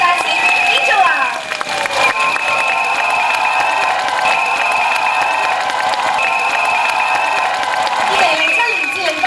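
Crowd at the Hong Kong Disneyland ambassador announcement ceremony applauds warmly for the resort's first ambassador, Angela, with steady clapping and cheering filling the hall throughout, and a faint amplified tone running above it.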